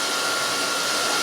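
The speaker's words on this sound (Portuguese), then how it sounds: "a gente vai desligar a batedeira" An electric stand mixer whirs steadily while whipping a cream mixture for a red velvet cake, a continuous broadband motor whine that stays even and loud with no talking.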